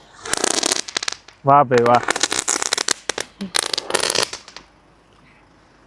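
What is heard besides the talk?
firecracker bombs exploding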